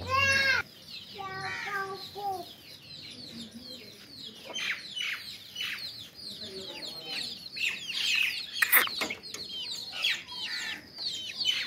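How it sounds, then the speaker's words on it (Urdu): A hen and her chicks cluck and cheep close by. The hen's harmonic clucks come in short runs over a busy, continuous chatter of high chick peeps, and faint voices can be heard in the background. "یہ ہمارے چوزے ہیں، یہ جو پہلے والے تھے وہ، اور اس کے بعد ہم نے نکالے تھے مرغی کے نیچے، وہ یہ والے ہیں"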